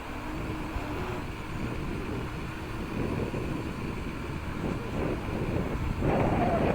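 Steady wind rushes across the microphone of an FPV drone in flight, a continuous low buffeting roar with faint motor whine, swelling slightly toward the end.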